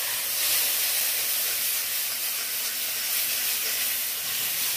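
Masala spice paste for katla fish curry frying in a pan after a spoonful of water is added, giving a steady, close hiss and sizzle with no pauses and no talking.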